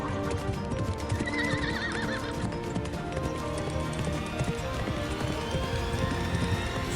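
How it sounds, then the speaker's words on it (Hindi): Cartoon racehorses gallop with fast, steady clip-clop hoofbeats throughout, broken by several high neighs and whinnies. A narrator speaks faintly beneath the sounds. "घोड़ों की दौड़ शुरू हुई।"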